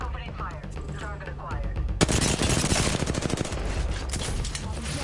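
Rapid automatic gunfire erupts in the video game Apex Legends, a dense, loud burst of shots following quieter in-game sounds and a brief voice line.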